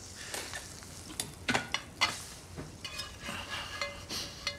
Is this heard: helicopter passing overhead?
no